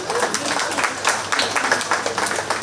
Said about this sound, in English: Let's give our two senior showmen here a really nice round of applause.